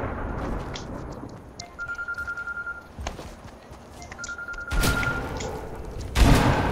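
Fortnite gunshots go off in a few sharp, loud bursts spaced several seconds apart, over a steady low background rumble.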